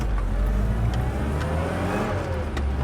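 A 1974 left-hand-drive mini truck's small engine revs nearby, a steady buzzing drone that swells and eases across the clip, with no talk.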